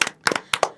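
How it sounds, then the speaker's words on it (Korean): A small group clapping together at the end of a Korean radio-style broadcast's final special episode, heard as a few separate short bursts of claps with pauses between them, close and moderately loud. "그래 한 박수 한번 칠까요?"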